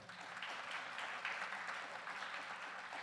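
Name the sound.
audience applauding a musician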